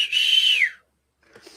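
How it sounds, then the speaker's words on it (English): A single loud, sustained whistle blast lasting over half a second, followed by silence and then some faint rustling. "Hit me with that whistle."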